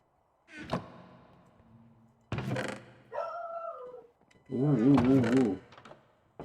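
A dog in a modded Minecraft world (Craft of Exiles) barks in a few short, sharp bursts with pauses between them, mixed with other game sounds and a person talking.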